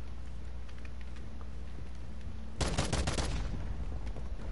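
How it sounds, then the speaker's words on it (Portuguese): A burst of rapid gunfire from a sniper shooter video game cuts in sharply after a quiet stretch and rattles for about two seconds before fading into a low, steady background hum. "Os caras estão atirando em mim aqui."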